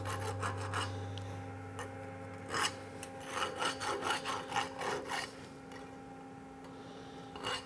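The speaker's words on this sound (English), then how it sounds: "Go ahead and bust our slag off." Slag is knocked and scraped off the cap bead of a stick weld on 3-inch heavy-wall pipe. Quick, rhythmic scraping strokes come in bursts over a faint steady hum.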